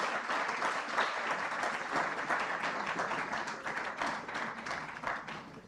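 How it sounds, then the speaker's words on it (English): Audience applause fills a hall at the 10th Nigeria-EU Business Forum, a dense, steady clapping from many hands that carries on throughout and eases slightly toward the end. "if you clap for me, I'll be so glad."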